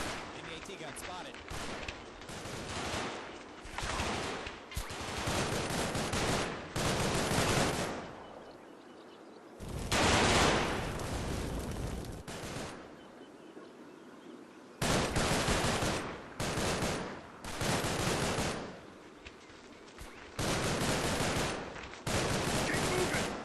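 Enemy anti-tank gun and other weapons firing in a Combat Mission battle set during Market Garden, loud repeated bursts and booms arriving in clusters with brief lulls between them.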